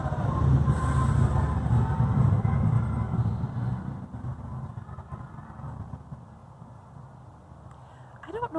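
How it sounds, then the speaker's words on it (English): Loud cars passing a backyard on a Monday evening, a heavy low engine roar that rises early on, then fades into a softer, continuing traffic hum. "loud cars driving by all day long is what happens here"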